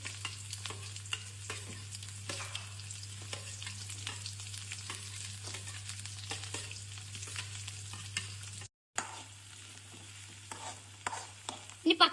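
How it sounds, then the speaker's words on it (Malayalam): Onions fry with chili and cumin in a pan for dahi tadka, a continuous close sizzle broken by repeated scraping stirs and utensil taps, with a short gap near the end and a few louder clatters at the end. "മുളക് ഇട്ട് ഇനി നമുക്ക് ഉള്ളിയാണ് ഇടേണ്ടത്."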